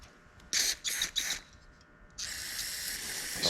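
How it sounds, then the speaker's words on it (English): Three short hissing bursts of aerosol carburetor cleaner sprayed close up into gasket holes on a 2010 Mercury 20hp four-stroke outboard carburetor, followed by one long sustained spray after a brief pause. "I want to spray these holes in the gaskets here"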